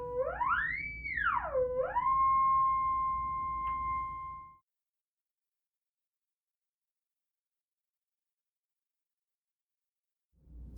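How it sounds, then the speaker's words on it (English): A modified theremin plays through a small 2-inch speaker fitted to a saxophone, giving a pure electronic tone that swoops up and down in pitch twice, then settles on a steady note before cutting off into silence. "And that sound is just coming through the speaker connected to the saxophone, a little 2-inch speaker."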